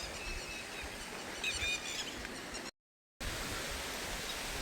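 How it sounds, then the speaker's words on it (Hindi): Waterfalls near a cave rush with a dense, steady roar of falling water, broken by a short silent gap, with faint bird chirps high above in the first half. "ये पानी का शोर, ये झरने,"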